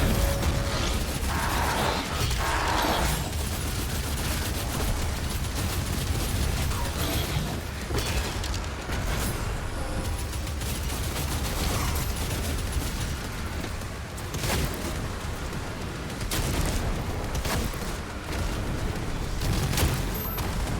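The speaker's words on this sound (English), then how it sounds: "Full auto weapon that launches a barrage of barbed spikes." Full-auto Shredder weapon in a video game spraying a barrage of barbed spikes, a dense, continuous mechanical rattle of rapid shots running steadily the whole time at a constant loud level, with no talking.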